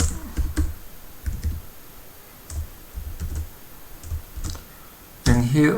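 Code being typed on a computer keyboard while writing a function for an Arduino and Node.js project: bursts of light, quick key clicks at close range, with a brief voice at the end.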